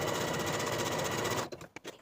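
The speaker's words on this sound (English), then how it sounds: "I'm going to sew basting stitches along the top of the sleeve from notch to notch using about a 1/4 inch seam allowance, the longest stitch on my machine" A sewing machine runs fast and steady, stitching long basting stitches along the top of a blouse sleeve, then stops with a few short clunks near the end.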